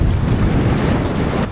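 Strong wind buffets the microphone, a loud continuous low roar with rushing hiss, steady throughout with no voices.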